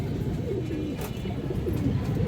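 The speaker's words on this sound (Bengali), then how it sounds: "লাল চুল্লি রোড লাইনের কবুতর" Red chulli road-line pigeons coo softly in repeated low, throaty calls, close by against a steady murmuring background with no clear talk.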